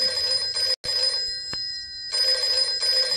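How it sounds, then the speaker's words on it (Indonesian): A telephone rings in a scene from the Bollywood comedy film Dhamaal, with steady bright electronic ring bursts repeating close and clear, broken by a couple of short sharp gaps, and no talking over it. "ayahnya terbangun karena suara telepon berdering"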